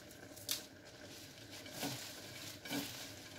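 Vegetables for a summer salad being tossed and mixed by hand, soft squishy rustles and a few brief clatters against a bowl, close and fairly quiet.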